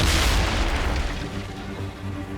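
Ship cannons fire in a naval battle in Assassin's Creed Rogue, a loud deep boom that opens the clip and then rolls off into a rumbling, crackling tail.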